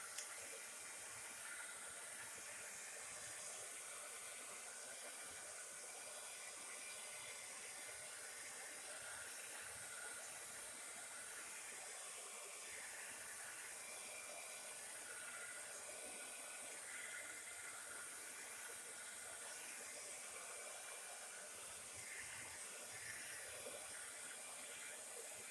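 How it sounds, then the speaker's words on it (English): A heat gun blows a steady, unbroken hiss of hot air over a handmade journal writing board to dry it, holding at an even level throughout with no talking. "let's put the heat gun on this just for a few minutes"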